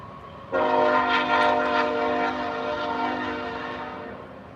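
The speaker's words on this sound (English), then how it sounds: "There goes the train again." A train horn sounds loudly from about half a second in, sustained with layered tones while the rail cars roll past, fading slightly toward the end.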